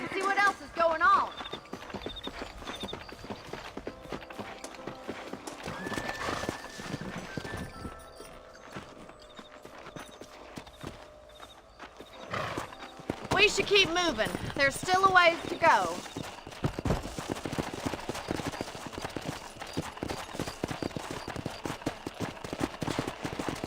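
Horses galloping in the Western video game Red Dead Redemption, with rhythmic hoofbeats running steadily beneath someone talking, swelling louder midway before settling back to a steady gallop.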